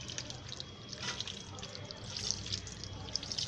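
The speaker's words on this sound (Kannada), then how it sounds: "ಹೀಗೆ ಇದ್ರ ಮೇಲೆ ಒಂಚೂರು ನೀರು ಚುಮುಕಿಸ್ಕೊಳ್ಳೋಣ." Water is sprinkled by hand over a layer of organic compost in a tub: soft, close patters and trickling drips over a quiet background.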